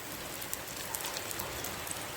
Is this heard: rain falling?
yes